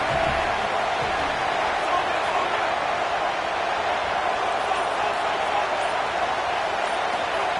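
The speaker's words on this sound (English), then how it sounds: "this crowd trying to help keep them there" Football game crowd roaring and cheering in the stands as a team is pinned deep in its own end near the red zone, a steady dense wash of noise with no pauses across the whole stretch.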